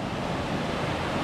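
A river runs swollen and fast after a night of rain near a hiking campsite, a loud, steady, close rushing roar with no voices.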